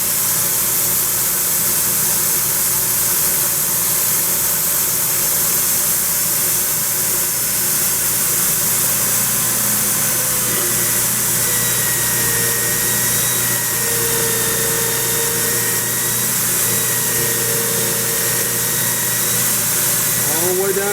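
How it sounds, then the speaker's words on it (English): A drill drives an 80-grit sanding pad inside a solid turned wooden mug, a continuous close whirring grind with steady motor hum and abrasive hiss throughout, no pauses. "I'm just going to power sand with an 80 grit."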